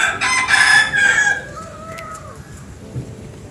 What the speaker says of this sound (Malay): Ya, burung.